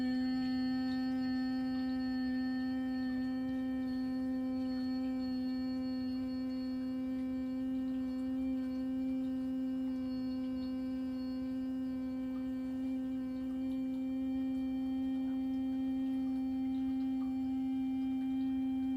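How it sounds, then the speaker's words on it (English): A steady, sustained humming tone held without a break throughout a meditation exercise, even and unwavering in pitch and loudness, with no speech over it. "Please continue with the humming sound"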